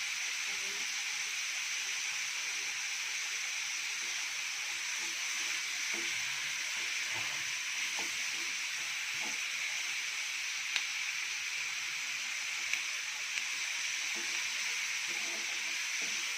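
Onion-based masala with turmeric frying for a paneer dish, a steady soft sizzle and hiss running throughout with faint stirring clicks.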